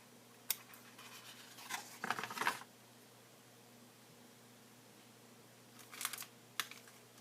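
Scissors trimming paper around a heart shape for a handmade origami heart box, giving a few faint, crisp snips and clicks spaced apart by long quiet stretches.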